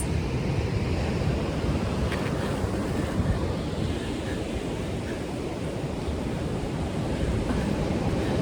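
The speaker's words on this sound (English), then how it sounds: "it's a much calmer day here at Renisfjara, the black sand beach" Waves wash onto Reynisfjara black sand beach in Iceland on a calm day, a constant broad roar of surf mixed with wind buffeting the microphone.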